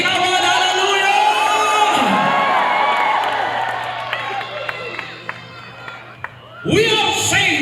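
A church congregation at a thanksgiving and jubilee service shouts and cheers in a loud, sustained roar with whoops and scattered claps. The crowd dips briefly, then surges again near the end.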